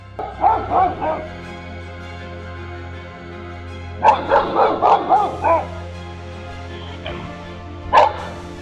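A dog barks at a black bear in short bursts, a cluster of sharp woofs followed by a pause, then another volley and a couple of isolated barks, fairly close.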